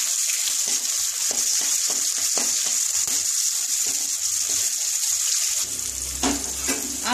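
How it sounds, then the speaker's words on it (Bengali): Thinly sliced onion and two slit green chillies fry in a pan for an amudi fish curry, a bright steady sizzle with rhythmic stirring taps, ending in a lower gushing hiss. "ভালো করে ভেজে নেব,"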